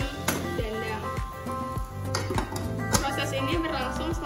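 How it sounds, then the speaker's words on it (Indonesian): Glass laboratory tools for a microbiology sterilisation are set into a steamer pot, giving a run of close clinks, knocks and metallic clatter spread across a few seconds. "Masukkan seluruh alat tadi ke dalam dandang."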